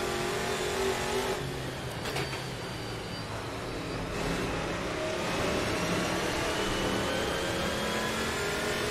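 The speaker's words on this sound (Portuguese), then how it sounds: "o lixeiro resolveu passar agora aqui na minha rua" Garbage truck passing on the street below a fifth-floor flat with the window open, a steady broad engine drone and road rumble that swells slightly toward the end.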